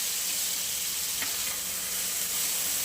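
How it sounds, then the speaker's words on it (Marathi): Onion and green chili fry in a pan for a spicy onion-garlic thecha, making a steady, dense, loud sizzle that hisses unbroken throughout. "कांदा आणि हिरवी मिरची टाकून घेऊया त्याच्यात."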